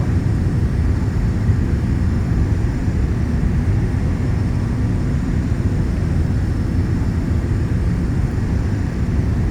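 A Premier 1A business jet in a flight simulator game drones steadily in flight, a loud, constant engine and air roar with no breaks and no voices.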